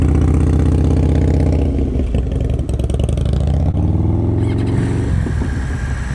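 A motorcycle pulls away during a riding lesson, its engine loud and close, revving with a rising, clattering growl that shifts pitch partway through and keeps running steadily to the end, with no talk over it.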